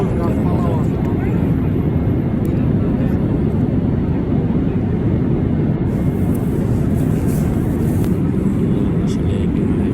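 The passenger cabin of an airliner in flight at about 12,000 to 13,000 feet hums with a loud, steady engine and airflow drone that never changes.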